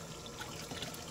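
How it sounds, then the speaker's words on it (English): Water trickles and splashes steadily as an RV air conditioner filter gets a quick rinse, a soft continuous flow heard alone. "give it a little rinse"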